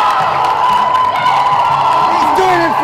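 A large crowd cheers and whoops at the final of an ultimate frisbee match, Glasgow against Edinburgh. The roar holds steady and loud throughout, with scattered shouts rising over it.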